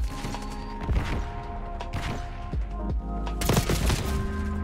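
Rapid SMG fire in Black Ops 6 on the Nuketown map, several dense bursts of close automatic shots with sharp cracks and thuds spread across the stretch, loud and steady over game noise.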